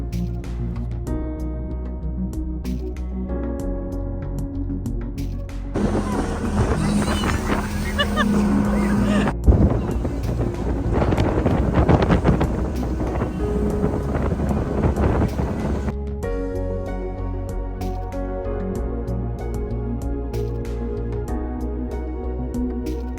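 A motorboat out on the water at Beypore, Kozhikode, its engine surging loudly for several seconds mid-clip amid wind buffeting, with quieter droning and voices before and after.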